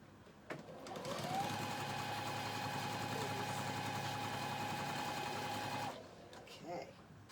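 Home sewing machine stitching quilt blocks for a sampler sew-along, a steady mechanical whir that runs continuously for about five seconds, close and fairly loud, with brief quiet handling noises before and after.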